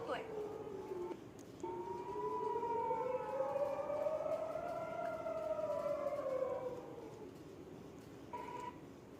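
Civil defense siren played from a video, a faint wavering tone that rises and falls slowly over several seconds, with speech around it and brief beeps at the start and end.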